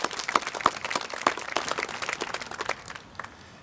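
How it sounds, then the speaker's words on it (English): Audience applause at a community center ribbon-cutting ceremony in Buena Park: dense, scattered hand claps that continue for a few seconds and then thin out toward the end, with no voices. "I really give them a round of applause for doing that."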